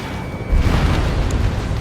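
A deep, booming explosion as an enemy radar vehicle is destroyed in the flight combat game Ace Combat 7. It erupts suddenly after a quiet moment and settles into a sustained low rumble that stays loud to the end.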